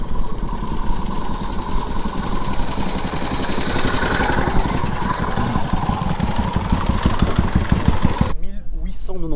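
Motorcycle engines idle steadily throughout, a continuous low rumble with pulsing throbs, close by and fairly loud, cutting off abruptly near the end.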